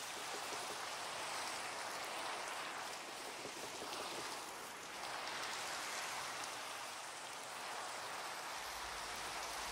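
Steady rain pours down continuously in a Minecraft-style video game, a dense hiss of drops spattering over surfaces with no voices, holding even throughout.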